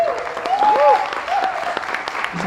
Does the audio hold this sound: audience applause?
yes